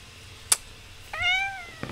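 A cat meows once in a drawn-out, rising-and-falling call, preceded by a short sharp knock, in a quiet indoor room.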